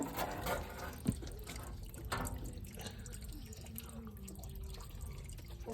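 Eucalyptus oil dripping drop by drop from a distillation outlet, faint wet plinks and trickling over a steady background hum, with a distinct drip near the start.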